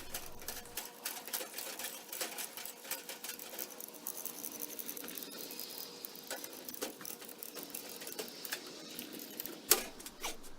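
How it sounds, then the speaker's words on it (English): A hand-operated come-along winch ratchets cherry logs up onto a trailer, giving a long run of dense, irregular clicks and metallic snaps at close range, with one sharp louder crack near the end. "I decided to use my come-along to get them up onto the trailer"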